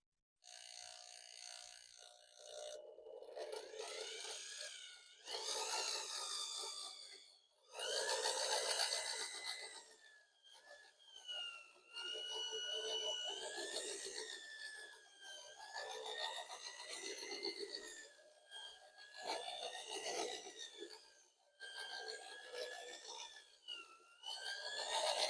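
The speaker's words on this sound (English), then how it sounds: "I'll do a slow drilling so you can see the action of the slip mixing" A power drill whirs slowly in short bursts, its pitch rising and dipping as it churns thick pottery casting slip in a bucket, pausing between runs.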